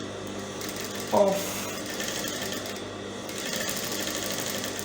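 A sewing machine stitches a zipper onto tulle mesh with a steady, close mechanical whirr and a brief louder knock near the start. A voice is faintly heard.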